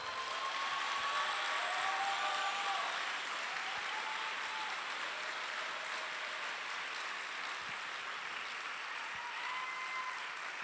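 An audience at a Spanish-speaking political gathering breaks into sustained applause for Ofelia, a dense, even wash of clapping that holds steady for about ten seconds, with faint voices underneath.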